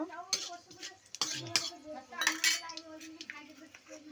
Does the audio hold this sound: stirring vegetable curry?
yes